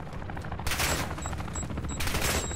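Automatic gunfire crackles in Call of Duty: Modern Warfare II DMZ, dense overlapping bursts of shots that intensify in two louder volleys, close and sustained with no talking.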